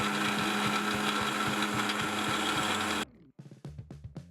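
A mixer grinder runs loud and steady, grinding sesame seeds with jaggery and a pinch of salt, then cuts off abruptly into brief knocks and rattles of the jar being handled.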